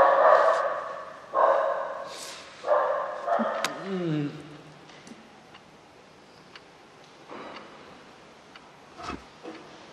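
A dog barks repeatedly in the first four seconds near a Buddhist temple during a meditation talk, the barks loud and close, then fading to sparse, fainter sounds with some talking in the background.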